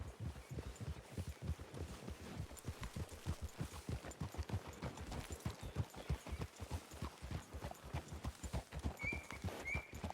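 Horses' hooves clip-clop at a steady walking rhythm in the video game Red Dead Redemption 2, faint and continuous through a wooded area, with no talk.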